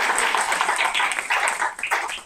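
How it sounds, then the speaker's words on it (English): Applause from an audience at a bookstore poetry reading, a dense patter of many hands clapping steadily for about two seconds, close and fairly loud with no voices. "round of applause to all of them."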